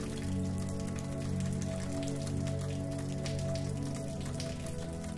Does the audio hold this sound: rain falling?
yes